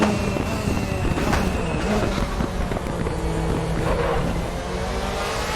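A 2003–2005 DTM race car in RaceRoom Racing Experience drives a lap of the Nürburgring, its engine droning loudly and steadily as the throttle builds, with a constant close mechanical roar throughout.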